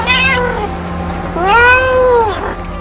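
Cats meow in a filthy hoarder house: two drawn-out, wailing meows, the second longer and louder, close by over a low background hum.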